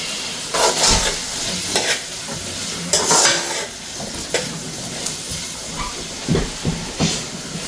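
Jamaican ackee and saltfish frying in a pan, a continuous hissing sizzle broken by repeated scraping stirs of the utensil, close and clear with no voices.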